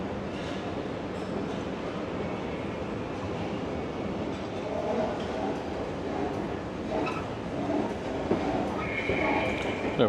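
Underground train at Heathrow Airport Terminal 5 station, a steady broad rumble of rolling rail cars and wheels filling the platform space, with faint background voices and occasional clanks near the end.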